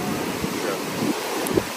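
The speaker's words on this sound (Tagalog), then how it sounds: "ngayon talagang nararanasan po natin ang pagkakabagat at ang alon ay sobrang lakas" Strong, rough ocean waves at Boracay beach, a steady roar of surf mixed with wind buffeting the microphone, loud and continuous.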